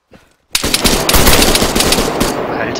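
Sustained machine gun fire in the video game Arma 3 erupts after a brief quiet moment, a loud dense burst of rapid shots continuing without break before tailing off.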